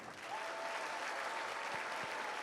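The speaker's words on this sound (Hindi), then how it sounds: "तालियां कुछ कम आ रही हैं।" A crowd applauds steadily, a dense wash of clapping at moderate distance, fairly even throughout with no talking.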